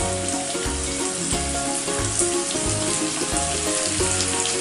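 Chopped beans and carrots fry in hot oil with garlic for prawn fried rice, giving a steady loud sizzle with a repeating low rhythmic thumping underneath, no voices.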